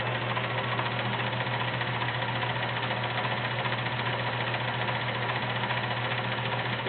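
Heavy-duty Kenmore 1430 sewing machine running a stretch zigzag stitch, a continuous mechanical hum with a fast, even rattling motor rhythm, steady and close throughout.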